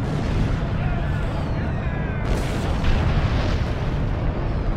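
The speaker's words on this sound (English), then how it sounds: "Orbital bombardment." Orbital bombardment striking the ground in Star Trek Online's Romulan Republic tutorial: a rumbling barrage of booms and blasts with sharp whistling streaks overhead, loud and sustained, with scattered game voices underneath.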